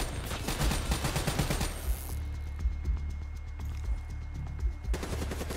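Rapid automatic weapon fire in Call of Duty Black Ops 3, a dense rattling burst at first, then scattered thumping shots against a noisy game background.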